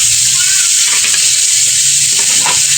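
Carrots and beans for chopsuey stir-fry in a pan, a loud steady sizzle with scraping stirring strokes throughout, close and continuous, no voices.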